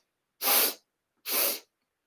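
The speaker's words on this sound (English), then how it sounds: "the inhalation is 3 sniffs like this" A person demonstrates the breath of joy exercise, drawing sharp, forceful sniffing inhalations through the nose as two loud, close bursts of airy hiss separated by a short pause.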